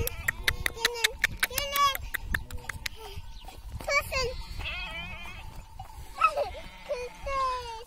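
Several lambs bleat in quick, wavering cries, some close and loud, overlapping with excited voices talking and calling during play with them.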